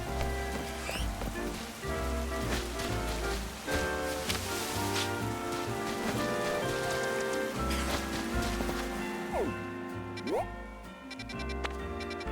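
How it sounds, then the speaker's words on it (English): Rain falls in the Pokemon Legends Z-A video game as it tours the city of Lumiose, a steady patter heard under game music and other effects, with a brief rising tone toward the end. "It just started raining."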